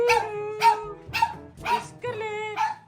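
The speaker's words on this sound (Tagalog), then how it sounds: "napakaliit na aso, napakalakas ng boses" A very small dog barks loudly and sharply, five distinct high-pitched yaps spaced about half a second apart, close and clear with a faint background hum.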